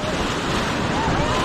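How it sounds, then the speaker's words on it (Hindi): Loud, continuous roar of rushing Ganges whitewater rapids while rafting near Rishikesh, close by, with no break in the churning sound. "ये आ गया पहला रैपिड"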